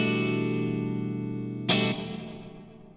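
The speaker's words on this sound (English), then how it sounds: "we're going to click the ambience button and we get this." Electric guitar through a Two Notes CAB M cab simulator with the cathedral reverb's ambience button engaged: a sustained, decaying chord washed in long reverb, with a brief bright strum near the end before the tail fades out alone.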